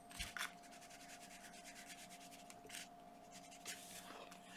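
Colored pencil shading very lightly on paper while sketching flowers, a soft, faint, steady scratchy rub with brief louder strokes, close and alone with no talk.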